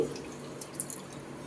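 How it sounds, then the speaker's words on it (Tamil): Water draining from soaked rice and lentils pressed in a vessel, a brief, soft drip and trickle of liquid, close and faint. "லைட்டாக ப்ரெஸ் பண்ணி ஒட்டை தண்ணி வடிச்சிட்டு எடுத்து போடுங்க"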